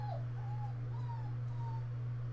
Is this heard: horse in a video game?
no